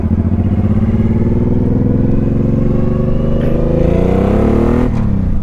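A motorcycle engine runs loud and close, a throbbing steady idle whose pitch climbs gradually as the revs rise, then dips sharply near the end; no start-up moment stands out and no one speaks.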